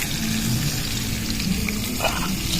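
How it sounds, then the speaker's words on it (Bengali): Potatoes fry in a pan with a dense, constant close-up sizzle and faint stirring, and no voices. "আলু এইভাবে ভেজে নিতে হবে"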